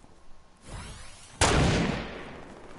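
A single gunshot fires in a multiplayer video game: a soft thud, then a sharp, loud blast about halfway through with a long fading tail, and no voices.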